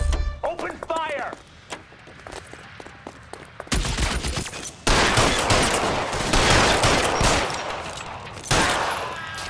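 Gunfire in L.A. Noire starts after a short spoken line, with a quiet opening stretch followed by dense, rolling volleys of shots that carry on loudly to the end.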